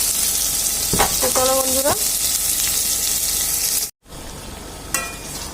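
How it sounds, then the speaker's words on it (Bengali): Peas and potatoes sauté with spices for ghugni, giving a loud, continuous frying sizzle close up, with someone speaking briefly over it and a short break partway through. "মটর আলুটাকে আরেকটু ভালো করে কষিয়ে নেবো"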